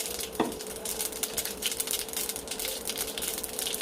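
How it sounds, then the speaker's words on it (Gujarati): Mustard seeds and cumin tempering in hot ghee and oil for moong dal khichdi, a steady close crackle and sizzle with a brief clatter near the start, no voices. "થોડુંક ઘી લેશું, થોડુંક રાઈનો વઘાર કર્યો, જીરાનો વઘાર કર્યો"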